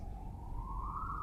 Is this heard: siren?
yes